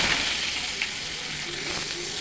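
Curry leaves crackle and sizzle in hot oil after asafoetida while a Tamil onion and tomato gotsu cooks, giving a steady close frying hiss throughout with a slight pop near the middle.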